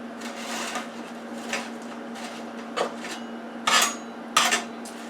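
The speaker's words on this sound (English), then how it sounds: "I just want to flip the French fries over so it can" French fries being flipped on a metal tray from a Power Air Fryer Oven, with scraping and clattering metal knocks coming in a few separate bursts over a steady hum from the oven.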